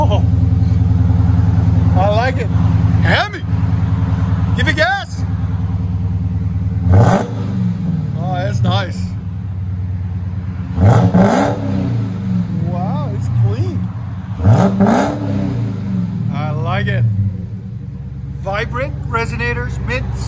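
A supercharged 6.2-liter HEMI V8 in a Dodge Charger Hellcat with an aftermarket exhaust rumbles at a steady, loud idle, then surges through several revs. People talk over the engine throughout.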